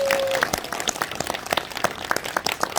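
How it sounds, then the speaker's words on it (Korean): Scattered clapping from an audience at a political rally in Pohang, with a brief tone at the start and a steady patter of hands under faint crowd noise. "박수 한번 치십시오."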